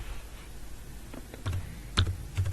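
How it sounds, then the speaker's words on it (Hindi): Typing on a computer keyboard during a programming lab session, with sparse, fairly quiet key clicks that come in small bursts and then a few sharper strokes near the end, and nobody talking. "यहाँ पे मैं लिखता हूँ शर्जील"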